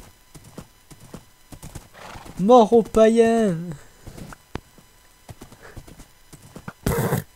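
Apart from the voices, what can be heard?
horse galloping and neighing in Minecraft video game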